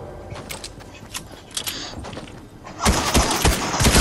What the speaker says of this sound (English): that's good shooting